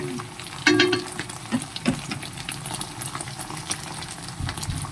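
Food frying in a new non-stick pan, with steady sizzling, oil spattering and crackling, and a few louder pops and scraping stirs near the start, all fairly close with no talking.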